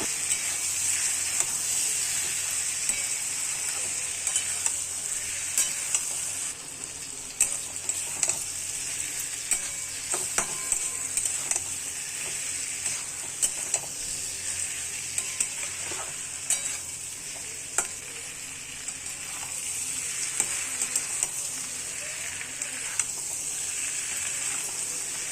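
Spices being sautéed in a pan for a Bengali home-cooked Friday morning dish give a steady, moderate sizzle, with light stirring scrapes and clinks scattered throughout and no talking.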